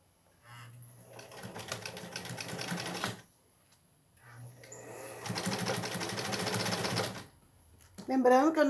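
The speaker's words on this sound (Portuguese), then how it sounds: "Bom, vou costurar aqui pra vocês verem." A common home sewing machine stitches fabric slowly in two sustained runs of whirring, rapid clatter, separated by a pause, before a voice begins speaking at the end.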